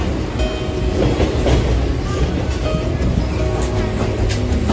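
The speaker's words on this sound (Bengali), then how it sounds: "ট্রেন এখন কার্ভ নিচ্ছে" A steady, loud rumble of a train running on rails between Silchar and Agartala as it takes a curve, with rhythmic clattering and rolling noise throughout, no voices.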